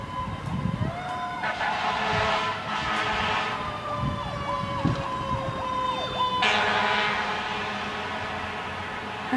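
A fire engine siren wails with a rising and falling tone as the fire department responds to a car crash on a highway, loud and steady with sharp blaring bursts layered over it, and no talk.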